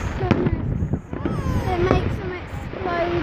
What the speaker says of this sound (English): What is inside fireworks?